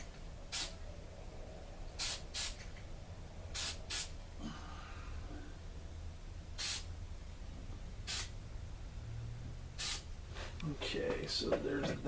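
Spray paint can nozzle on plastic model parts such as wheels, hissing in several short, sharp bursts separated by pauses, with a person speaking quietly in between.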